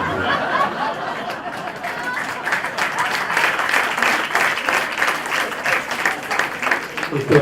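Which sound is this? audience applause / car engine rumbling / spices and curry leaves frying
audience applause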